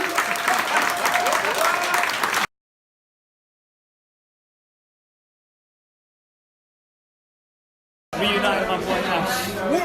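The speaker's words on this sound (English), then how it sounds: "just one more round of applause for the guys" An audience applauds at a drama school panel event. Dense, close clapping with some chatter runs for a couple of seconds, cuts to total silence, and then resumes for the last two seconds.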